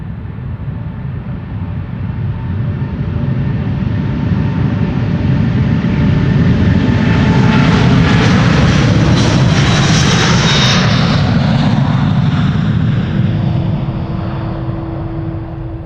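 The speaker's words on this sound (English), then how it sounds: "Now Delta Airlines flight 57 to Salt Lake City." A one-year-old Delta Air Lines Airbus A330neo jet at Schiphol Airport, flight to Salt Lake City: a loud, sustained engine roar that builds and then eases off, with a faint whining tone near the end.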